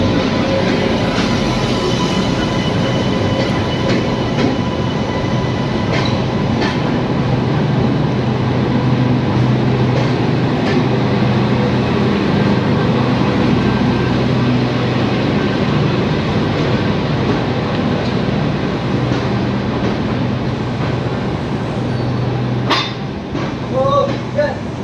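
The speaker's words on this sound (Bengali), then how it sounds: "আমাদের প্ল্যাটফর্মে এসে পৌঁছালো ট্রেন নাম্বার 15-945 মুম্বাই লোকমান্য তিলক থেকে ডিব্রুগড়গামী ডিব্রুগড় এক্সপ্রেস" Dibrugarh Express, train 15945 from Lokmanya Tilak Terminus, Mumbai, pulling into a platform, a steady loud rumble of wheels and rolling carriages throughout, with faint voices and clatter mixed in toward the end.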